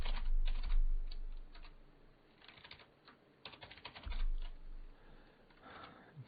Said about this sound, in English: Yeah, I can type. I really can.